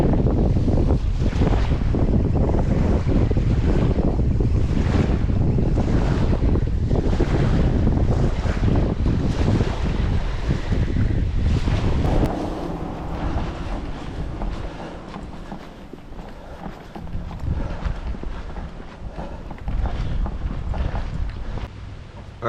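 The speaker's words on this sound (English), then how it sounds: "I didn't realize how windy it was." Strong gusting wind buffets the microphone by the shore, roaring loudly in rushing surges for about twelve seconds before easing into a softer, uneven blowing, with no voices.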